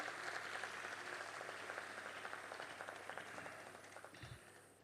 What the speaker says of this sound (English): A huge round of applause for this.